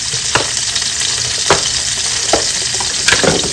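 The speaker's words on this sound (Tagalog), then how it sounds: "Sa pinagprituhan po ng liempo, ko po i-prito at pag-isa yung mga pinakulang po natin na kabuti." Porcini mushrooms fry in rendered pork belly fat, giving a loud, close, continuous sizzle broken by a few brief scraping stirs.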